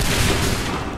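A musket volley fired on command in Assassin's Creed III roars as one loud, dense burst of overlapping shots that fills the moment and then starts to fade.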